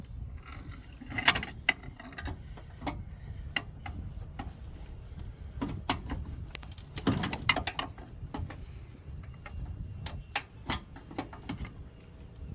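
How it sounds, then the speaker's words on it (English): A wrench works a rusted nut loose on the upper control arm of a Dodge Dakota, producing a sparse run of metallic ratchet clicks and clanks. The sound is faint and close, with a dull background and no speech. "I have to kind of take the nut off through the rust."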